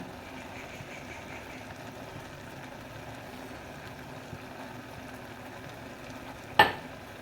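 Potato and pumpkin greens frying in a pan with red lentils and toasted cumin: a steady, low sizzle runs throughout, broken once by a single sharp clank of the utensil against the pan near the end.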